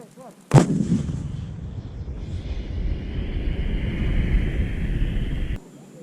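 A 155 mm army cannon fires once during artillery practice in Aceh, a sudden loud blast followed by a long rolling rumble that fades over several seconds outdoors, with faint voices before the shot.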